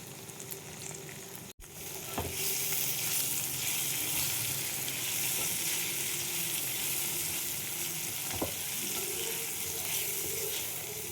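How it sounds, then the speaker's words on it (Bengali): Paneer with soy sauce, garam masala and red chilli powder stirred in a pan over low heat. After a short quiet start a steady sizzle sets in, with occasional clinks of the spatula. "এইবার এটা ভালো করে নাড়িয়ে নিলাম, আঁচটা কম ছিল।"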